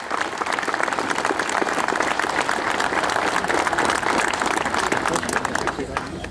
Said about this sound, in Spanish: pido a todos los presentes brindarles un fuerte aplauso